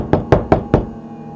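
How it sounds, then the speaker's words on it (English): Four sharp, evenly spaced knocks on a door, close and loud, followed by quiet. "there was a knock at the door."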